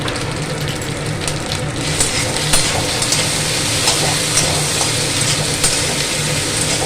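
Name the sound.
sautéing ginger-chili paste and fennel paste in a pan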